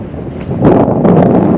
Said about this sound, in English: Windy today, pretty chilly in the wind.